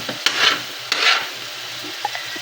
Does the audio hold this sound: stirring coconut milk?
yes